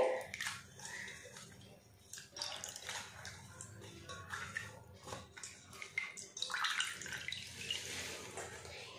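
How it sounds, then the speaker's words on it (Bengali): Pumpkin leaves dropped into a pot of hot water give soft splashing and sloshing with small drips and clinks, moderately quiet and continuous, with no one talking. "এই গরম জলের মধ্যে পাতাগুলো আমি দিয়ে দেব"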